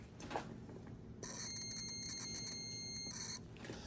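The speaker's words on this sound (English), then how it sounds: "I'm gonna turn it to continuity. And what that means is when these 2 touch each other, a little sound goes off." A multimeter set to continuity, checking fuses in the rear power outlet circuit of an F-150, gives a steady high electronic beep for about two seconds. The beep is quiet and close.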